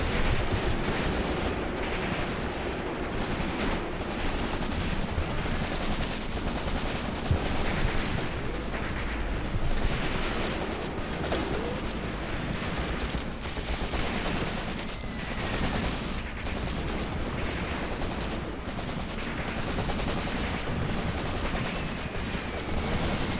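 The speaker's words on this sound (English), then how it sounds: "The enemy's definitely dropping artillery on us." Artillery and gunfire in the Graviteam Tactics WW2 wargame form a dense, continuous barrage of distant and near gunshots, machine-gun bursts and booming impacts, with no talk over it.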